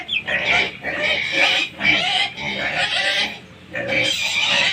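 Several pigs grunt and squeal loudly nearby in a continuous, overlapping chorus of harsh bursts with brief pauses between them.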